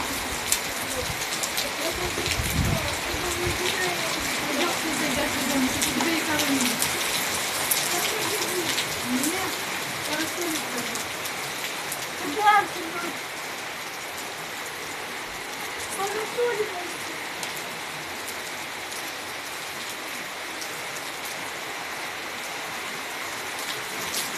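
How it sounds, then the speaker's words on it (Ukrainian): Hail mixed with heavy rain falling on a garden, a continuous close hiss of pelting ice and water with scattered louder impacts; faint murmuring sounds are heard underneath. "І знову град посипав."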